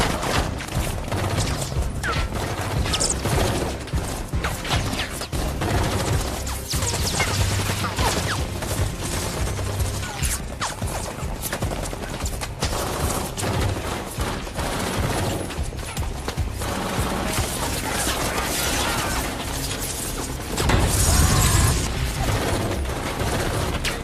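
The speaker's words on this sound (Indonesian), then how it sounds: "Terjadi baku tembak di antara mereka di mana Benning" Gunfight from the action film London Has Fallen, a sustained loud barrage of gunfire, clanks and crashes over a dense soundtrack throughout, with a heavier burst near the end.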